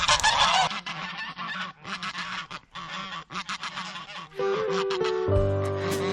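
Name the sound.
geese honking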